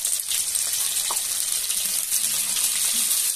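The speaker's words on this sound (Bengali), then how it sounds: "মাছগুলো ভেজে নেব।" Pieces of stale fish sizzling as they fry in oil in a village kitchen pan, a bright, steady hiss with faint crackles running throughout, close by and uninterrupted, with no one talking.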